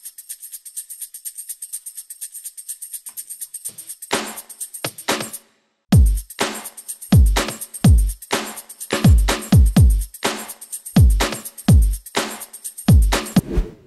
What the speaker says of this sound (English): isolated a bunch of the tambourine sounds, and then sequenced it into a loop that works.